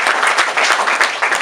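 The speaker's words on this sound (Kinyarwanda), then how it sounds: "muri imfura mwiha amashyi rwose" A gathering of a family unity group breaks into a short, loud burst of hand clapping with uneven rhythmic peaks.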